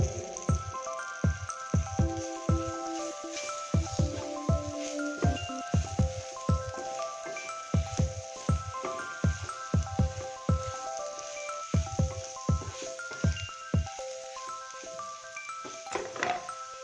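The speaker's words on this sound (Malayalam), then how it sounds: "ഇതെല്ലാം പാടെ ഒന്ന് നന്നായിട്ട് ഇത് മിക്സ് ചെയ്യാം." Bitter gourd (pavakka) curry being stirred and mixed in a pan: a spoon makes regular, close, wet squelching strokes over a soft, steady musical background.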